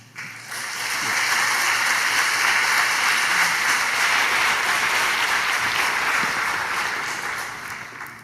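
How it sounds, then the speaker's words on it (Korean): A church congregation applauds to welcome a pastor to an evening service, a dense, even roar of clapping that swells within the first second and holds steadily at full strength to the end, with no talk. "박수로 환영해 주시면 감사하겠습니다"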